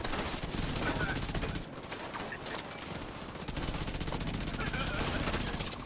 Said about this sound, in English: I'm getting shot in my back